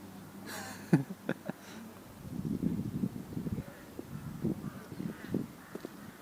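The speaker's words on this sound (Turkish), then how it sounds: "Ördek." Low honking and quacking calls from ducks at a zoo in Ukraine come in bursts at moderate distance over outdoor background noise, with a few sharper calls early on.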